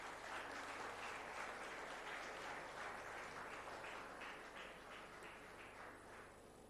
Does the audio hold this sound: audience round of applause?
yes